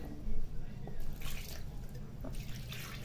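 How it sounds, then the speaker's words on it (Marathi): Water poured over cut potato pieces in a bowl for a simple potato dish, a soft trickling and dripping wash heard close up, with faint talk in the background. "जे कापून ठेवलेले बटाटे होते त्यात पाणी घालून घेणार आहोत।"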